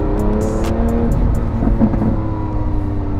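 The engine of a 2018 Lamborghini Aventador S, a roughly 740-horsepower V12, droning steadily from inside the car while driving, loud and close with a constant low rumble and no talk.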